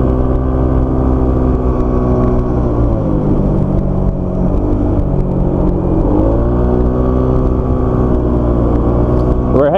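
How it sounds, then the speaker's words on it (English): Scooters climbing a mountain road, their small engines droning steadily and close with shifting pitch as they rev and ease off, loud and continuous. "Brad's got Xiaomei on his scooter,"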